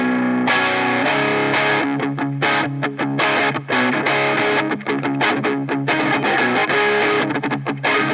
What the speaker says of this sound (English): Let's just hear what the distortion sounds like alone.